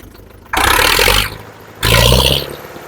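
A Swaraj 5911 tractor engine, a used machine with power steering and disc brakes, revs up in two loud, broad bursts outdoors, each swelling and settling back to a rough idle between them.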